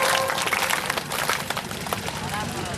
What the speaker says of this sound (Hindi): तलिया जे बजावा था ताली है